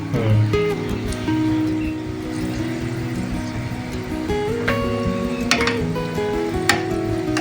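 Okra deep frying for bhindi bharela, a steady dense sizzle of hot oil with occasional clinks of a utensil against the pan, continuous and close, while someone talks faintly over it.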